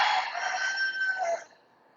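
A rooster crows once in a long, drawn-out cock-a-doodle-doo, fairly close and clear, trailing off into quiet.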